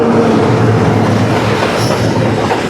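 A Pakistan Railways goods train with locomotive passing in rain in Sindh, a loud continuous rumble and rattle of wagons rolling by close up, with faint rhythmic wheel clatter and no speech.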